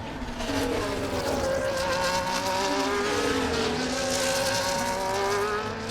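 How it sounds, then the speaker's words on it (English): Formula 1 race car engine in the EA Sports F1 game at the Las Vegas Grand Prix, screaming steadily near the rev limiter with rising and falling harmonic whine, loud and continuous throughout without speech. "you'll hear that the car will go all the way up to the rev limiter, even without DRS"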